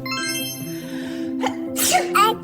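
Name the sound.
baby copying a sneeze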